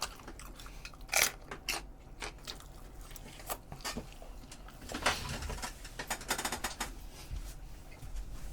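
Crunchy chewing of a pickled cucumber, close and fairly loud, with repeated biting crunches in an uneven rhythm throughout and no talking.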